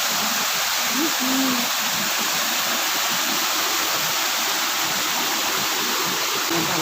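Salakot Falls near Napsan, Puerto Princesa, a waterfall pouring into its pool, a loud constant rushing hiss filling the whole span with no breaks, close by.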